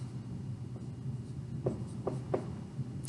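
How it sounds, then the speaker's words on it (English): A pen scratches across paper while an amount is written out for a money word problem, with a few short distinct strokes near the end over a quiet room hum. "I'm gonna write that out here, shingles."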